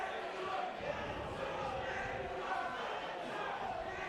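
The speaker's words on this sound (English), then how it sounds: "Very vocal and noisy crowd here in the New River tonight" A vocal, noisy crowd at a floodlit Friday night rugby league match between London Skolars and Hunslet, a steady dense roar of many voices that holds level throughout, fairly distant and diffuse.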